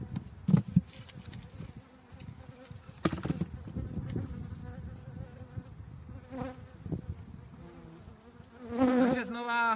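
Honey bees buzzing around three hives at an apiary in September, a steady insect drone close by with handling knocks and clatter over it.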